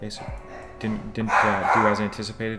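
A dog barks repeatedly in the background while someone talks over it, the barks coming in short rhythmic bursts across the whole stretch.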